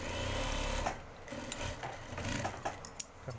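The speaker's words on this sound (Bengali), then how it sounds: "এটাকে একটা চাপ সেলাই দিয়ে দিতে হবে।" A sewing machine stitches men's pajama pants, making a steady mechanical whir for most of the clip, then a few lighter clicks and short bursts as the stitching continues up close.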